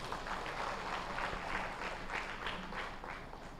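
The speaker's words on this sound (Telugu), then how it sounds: "ఆవిడ ఒకసారి గట్టి క్లాప్స్ అండి" Audience clapping at a Patriji meditation gathering in a hotel hall: steady, moderately distant applause from a crowd fills the whole stretch, with no talking over it.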